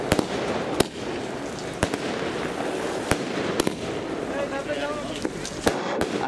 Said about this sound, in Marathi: फटाक्यांची आतषबाजी यावेळी झाली आहे.